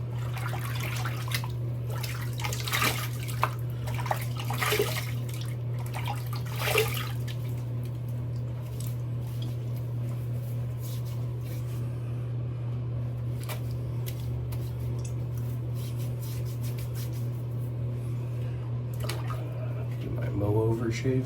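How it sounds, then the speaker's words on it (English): Water running from a tap as a face is rinsed after a wet shave, a steady splashing flow under a low constant hum, with a few louder splashes early on. "I'm going to go ahead and rinse, and we'll do the post shave."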